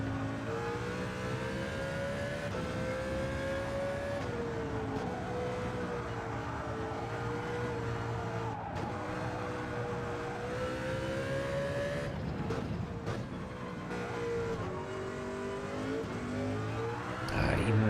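A race car engine in Gran Turismo 7 on the Fuji circuit drones at high revs, climbing in pitch through each gear and dropping at several upshifts, loud and continuous throughout.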